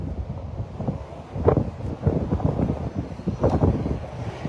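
Strong gusting wind beside Interstate 26 at Exit 5 in Kingsport, Tennessee, buffeting the microphone in a continuous rough rumble that swells and eases with each gust.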